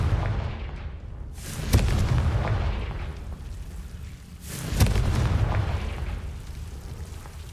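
Confringo blasting curse explosions in Hogwarts Legacy: two loud, booming blasts about three seconds apart, each with a sharp crack and a rumbling tail, close and heavy with no talk over them.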